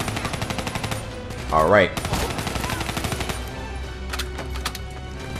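Rapid automatic gunfire from the Call of Duty Black Ops 3 video game on Xbox One, bursts of rattling shots running through the whole stretch, with a brief spoken word from a player over the shooting.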